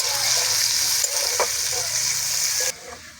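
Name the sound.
chopped onion frying in spiced oil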